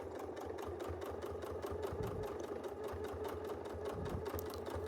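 Sewing machine free-motion quilting, a steady rapid needle chatter and motor drone running continuously up close, with a couple of faint thumps underneath.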